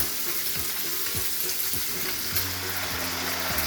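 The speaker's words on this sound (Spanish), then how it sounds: "vamos a echar la agua" Water poured into a hot frying pan of nacho meat erupts into loud, dense sizzling and bubbling, with faint utensil scrapes and knocks against the pan beneath the steady hiss.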